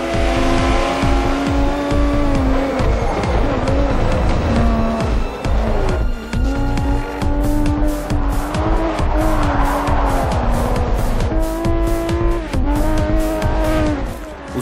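Race cars in Forza Motorsport 4 roar loudly and continuously with engine pitch rising and falling, repeated tire squeals and skidding through corners, and rapid gear-change bursts later on.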